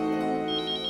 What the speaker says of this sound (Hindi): फोन की घंटी तो यहीं से सुनाई दे रही थी कहीं।